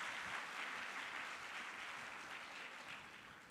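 Audience at an annual convocation ceremony applauding placement results, a steady dense wash of clapping that holds throughout and fades slightly toward the end, fairly quiet and distant.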